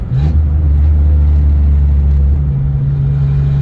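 A Geo car drives with a loud, steady low engine rumble heard from inside, the pitch dropping and settling as it downshifts.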